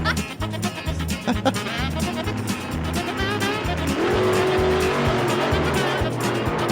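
A car engine revs hard alongside squealing tires in a played clip, a loud rhythmic droning with pulsing low throbs and a rising whine midway, with little talk over it.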